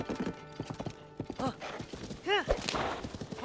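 Horse hooves clip-clop at a walk in Zelda: Tears of the Kingdom, a steady close trotting rhythm with a short whinny partway through, while a person talks quietly over it.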